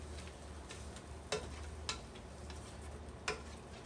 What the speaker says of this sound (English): So I'm going to start stirring